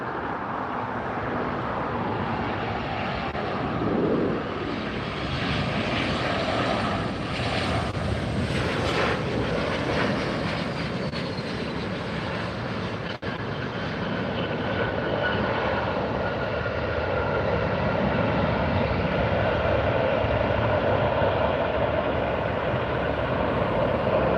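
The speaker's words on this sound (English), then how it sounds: "You can see how these aircraft come right over the road" A jet airliner on final approach to LAX passes low over the road, its engine roar loud and sustained throughout, swelling and shifting as it comes overhead alongside road traffic.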